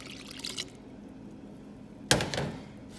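Water is poured into a pan of rice being cooked for vegetarian Hoppin' John, a soft trickle followed by a sudden louder splash and pour, close and quiet with no talking.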